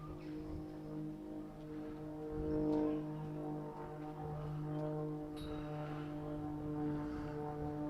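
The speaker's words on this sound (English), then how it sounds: "please excuse the buzzing overhead" Low propeller aircraft from an air show drone overhead at a European bowls championship, a steady layered hum holding across the whole stretch with a slight swell midway, fairly distant and continuous.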